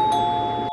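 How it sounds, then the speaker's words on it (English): A doorbell rings once at a home, a sustained electronic chime tone that holds steady and then cuts off abruptly, loud and close with no one talking. "Doorbell?"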